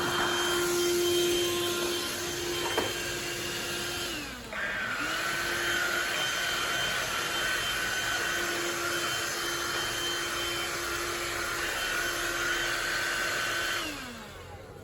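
A Black and Decker lithium Dust-Buster handheld vacuum runs with a steady, fairly quiet whine, dipping briefly midway and winding down in pitch near the end.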